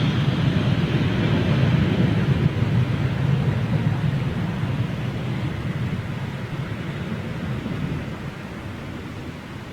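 An MEA Airbus A321neo airliner in new livery passes at Manchester Airport, a broad steady roar that slowly fades over about ten seconds, heard alone without talk.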